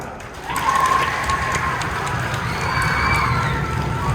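School assembly crowd cheering and applauding, a steady wash of clapping with children shouting and whooping, loud and sustained throughout.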